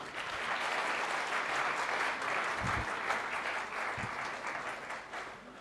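Steady applause from an audience at a marketing training session, dense continuous clapping at moderate distance lasting several seconds, with a couple of low thumps and no speech over it.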